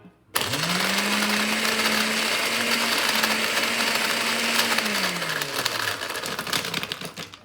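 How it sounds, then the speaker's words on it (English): A blender whirs up to speed and holds a steady, loud motor drone while crushing a rum cocktail with ice, then winds down near the end, close and with no talking. "Let's blend this, see what it tastes like."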